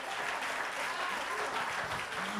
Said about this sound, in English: Clap your hands if you believe that this morning.